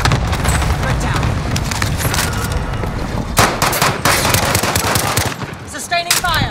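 Sustained automatic gunfire in a video game: loud, dense rapid bursts of shots that run almost without pause, with a few sharper single cracks near the end.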